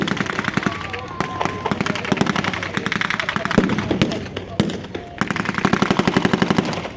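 Rapid machine-gun and rifle fire crackles through a 1940s wartime battle re-enactment between Allied and German sides at Lytham, bursts repeating densely and loudly throughout, with people talking underneath.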